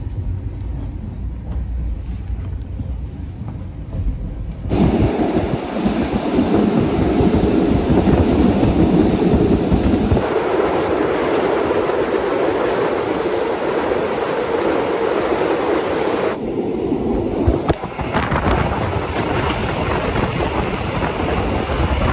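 A train in mountainous country near the sea rumbles along the rails with loud, continuous clatter and rolling noise. The roar shifts in tone as the carriages move and pass different track sections.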